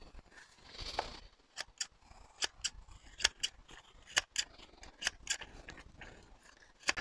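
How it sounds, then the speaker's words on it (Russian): Garden shears snipping grass along a lawn border, a steady series of sharp, close metallic clicks about twice a second, with soft rustling between cuts and no talking. "И с помощью этих ножниц очень легко постричь траву вдоль бордюра."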